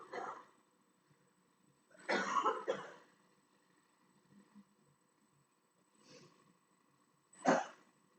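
A person coughs several times in separate bursts, some harsh and clustered, others short and single, all fairly faint and distant in an otherwise quiet room.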